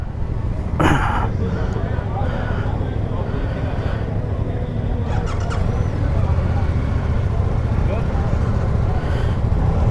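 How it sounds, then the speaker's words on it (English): A 2024 Suzuki GSX-8R with a 776cc parallel-twin engine being ridden, its steady engine drone mixed with loud wind rush throughout, plus a brief throat-clearing-like noise near the start. "so now we are riding the Suzuki"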